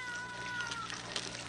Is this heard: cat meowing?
yes